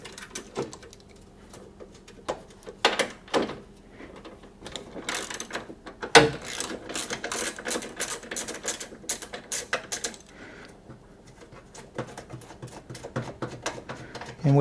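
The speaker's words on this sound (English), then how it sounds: "we'll pull both of these passenger side headlight fasteners out" Removing the 13 mm passenger-side headlight fasteners on a GM Cavalier produces quick runs of ratchet clicks and metallic rattles, close by, with a few louder clacks between bursts and some talking.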